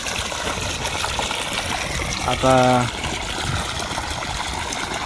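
Water gushes steadily from a farm irrigation pump pipe in an open field, a constant close rushing roar, with a short spoken word heard over it partway through.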